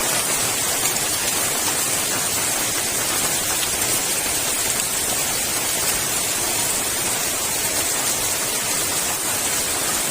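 Heavy rain pours down at night over a hammock campsite, a dense, unbroken roar of water that stays loud and even throughout with no voices.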